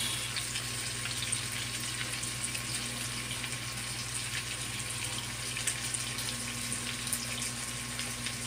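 Pork kasim mechado with tomato sauce and bay leaf sautéing in a pan, a steady, close crackling sizzle that runs without pause and has no voices.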